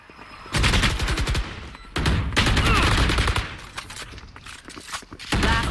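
Gunfire in a competitive bomb-site shooter match: dense, loud bursts of rapid shots repeating across the stretch, with brief gaps between volleys and a last burst near the end.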